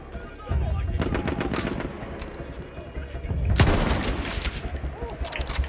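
Gunfire in the first-person shooter Battlefield 1 in a desert setting, with bursts of rifle shots and a heavier impact midway over constant battlefield noise, sounding close and loud.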